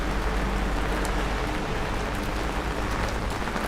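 Rain falling on a Manhattan street with runoff pouring off scaffolding, a dense continuous wash of water splashing and drumming without a distinct separate burst.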